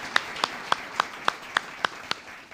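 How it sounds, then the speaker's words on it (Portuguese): Eight evenly spaced, sharp claps ring out at a steady rhythm during a Portuguese-language church service, fairly close and clear against a quiet background, more like one or a few people clapping together than a full congregation. "Uma salva de palmas ao Senhor Jesus."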